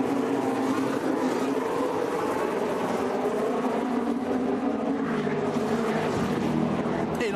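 Formula 1 race cars roar past at the Canadian Grand Prix, a loud, continuous engine drone with shifting pitch from a trackside crowd spot.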